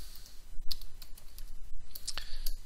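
Fingers type a command on a computer keyboard, a quick close run of uneven key clicks and taps with short pauses between bursts.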